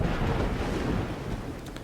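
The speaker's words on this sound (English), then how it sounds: "Nice little storm." Thunderstorm in the prehistoric survival game Dawn of Man: a steady, loud broadband rumble of rain and rolling thunder, continuous throughout and easing slightly toward the end, with no talk.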